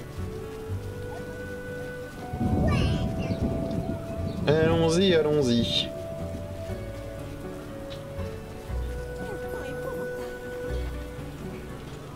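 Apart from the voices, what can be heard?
rain in video game The Witcher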